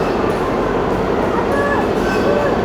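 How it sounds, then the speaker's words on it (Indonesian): Antique Ambarawa train pulling into a station, a continuous loud rumble of rail cars with faint squeals and clatter while people talk nearby. "Kereta pertama sudah datang."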